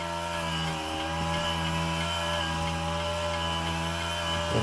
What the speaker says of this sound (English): Excuse the noise, there's somebody out there with a strimmer.